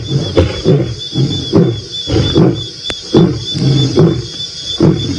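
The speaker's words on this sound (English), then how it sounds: "I can hear the other lions. They were still roaring." Wild lions roar at sunset on a safari drive, a fairly close series of about eight rhythmic grunting pulses that rise and fall, with a thin steady insect-like whine behind them.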